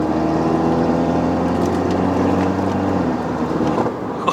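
The engine of an F56 MINI John Cooper Works drones loudly from inside the car during a test drive in Malaysia, holding a steady pitch and then dropping sharply near the end as the car downshifts.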